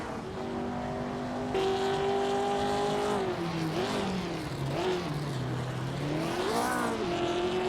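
Several 1950s sports cars race in a video game, engines revving hard and shifting pitch as they accelerate and pass, with tire squeals mixed in, loud and continuous throughout.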